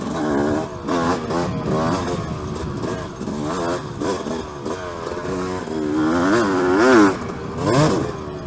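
A Suzuki motorcycle fitted with a new Lectron Pro Series carburetor is ridden in third gear, its engine note droning steadily and rising and falling with throttle, loud and close throughout.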